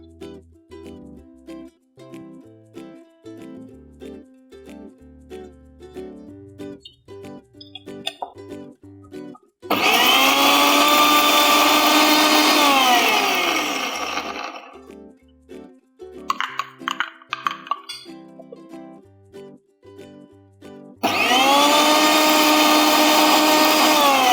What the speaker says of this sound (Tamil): நம்ம இன்றைக்கி யூஸ் பண்ண போகிறது வந்து ப்ரெஸ்டீஜ் எண்டூரா மிக்ஸி